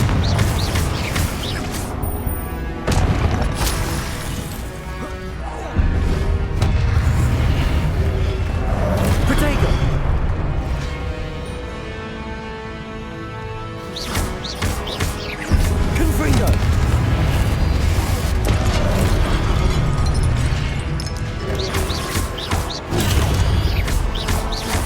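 Repeated Confringo fire-spell blasts in Hogwarts Legacy, loud booming bursts with crashes and whooshes arriving in irregular bursts through combat, under a voice that shouts spell names between hits.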